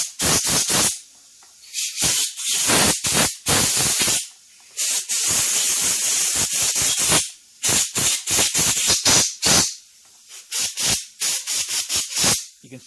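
Compressed air blasts in repeated short and longer hissing bursts through a 1983 Honda GL1100 Aspencade motorcycle carburetor, loud and close, with brief pauses between spurts.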